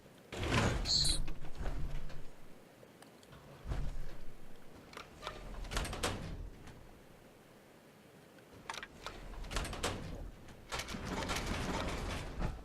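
Doors in the video game Fallout 4 open again and again with heavy mechanical clanks, grinding gears and ratcheting slides, arriving in repeated loud bursts between quieter stretches.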